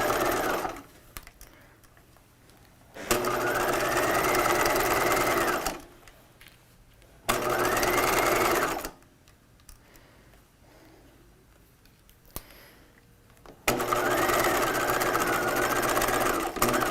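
A home sewing machine back stitches a dress seam with a 5/8 inch seam allowance at a regular stitch length of about 2.5, running in three steady bursts with quiet pauses between them.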